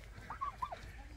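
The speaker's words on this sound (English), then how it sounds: "They actually went gobble gobble." A turkey gobbles on a farm in Bohol, giving two short warbling calls against quiet outdoor background noise.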